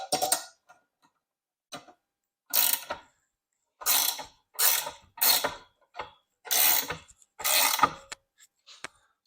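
A ratcheting wrench turned in quick bursts while building a DIY hookaroon for firewood, giving close, crisp clicking runs of about a second each, separated by short pauses and repeated around eight times.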